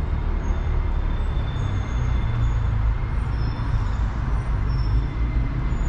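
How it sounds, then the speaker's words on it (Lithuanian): Steady low rumble and hum of a large railway station hall at Budapest Déli, a dense continuous background of distant machinery and crowd murmur, with no clear announcement standing out. "Tokia štai Delį geležinkelio stotis, gana baisoka"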